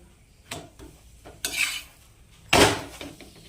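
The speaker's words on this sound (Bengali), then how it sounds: "চলো পরোটাটা উল্টে পাল্টে দিই, কারণ আমি তো এক হাতে মোবাইল ধরে আছি আর এক হাতে পরোটা ভাজছি" A paratha is flipped while it fries in a pan: three sharp, separate clanks of utensil against pan, fairly close and loud, with only a faint sizzle between them and no talking.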